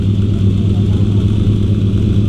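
A Lamborghini Countach idles and revs at the Ferruccio Lamborghini Museum in Funo, Italy, a steady, loud, deep engine rumble holding throughout.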